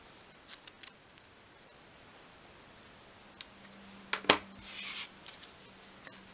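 Scissors cutting out a paper template for a 1/12 scale miniature wardrobe: a few faint, scattered snips and rustles, then a louder crisp cut and a short rubbing slide of paper, close and quiet.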